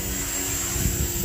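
Oxy 4 RC helicopter running at low rotor RPM with a high-gain tail setting, giving a steady close whine and buzz with a slight rise in the final moments.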